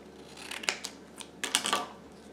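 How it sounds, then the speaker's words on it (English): Scissors cut a triangular roof shape from paper for a craft cityscape, a few close, crisp snips spaced unevenly and heard alone against a quiet room. "I'm going to actually cut a roof out of this"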